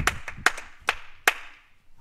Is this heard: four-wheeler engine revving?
no